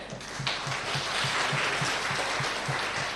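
A yoga class audience claps together for its main teacher during a Sindhi-language yoga and pranayam session, a dense, steady burst of applause over a regular low thumping pulse.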